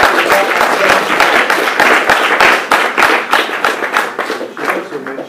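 Audience applause for the keyboard players and drummers at a music masterclass, dense steady clapping from a crowd that thins slightly toward the end.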